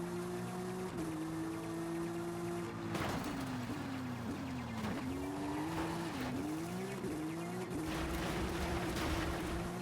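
In the Forza Horizon 5 video game, a car races on the Tapalpa dirt trail, its engine droning and rising and dipping with gear changes and turns, tires skidding and squealing now and then, loud and continuous with no voices.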